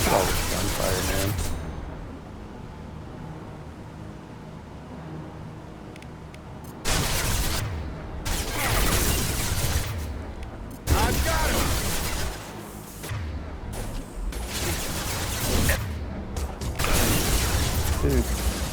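Gunfire in Mass Effect 2 on Insanity difficulty: bursts of rapid mechanical shots cut in and out between quieter stretches, loud and close, with a player talking over parts of the action.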